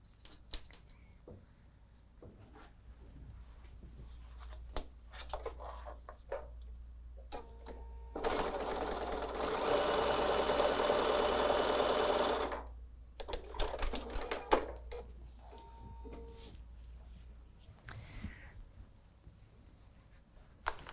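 A sewing machine stitches a quilt block, a fast mechanical whirring burst of about four seconds surrounded by quiet clicks, fabric handling and small taps in a still room.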